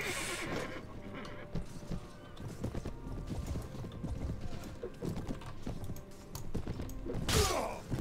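Horse hooves clip-clop on the ground in Mount & Blade: Warband with the A Clash Of Kings mod, a quiet steady patter under busy battle noise, with a horse whinny near the end.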